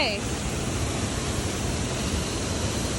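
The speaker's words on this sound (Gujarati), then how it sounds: "અવાજ બેકગ્રાઉન્ડમાં તમે સાંભળતા જાય કેટલો જોરશોર અવાજ આવે છે." Water roars steadily at Galdhara dam, a dense continuous rush like a waterfall that fills the whole moment without pause, loud and unbroken.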